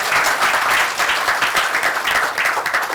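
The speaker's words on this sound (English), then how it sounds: "can I have a round of applause for Nikhil and his parents?" A conference audience at Global Fintech Fest 2024 gives Nikhil and his parents a round of applause, loud, dense and sustained clapping from many hands throughout.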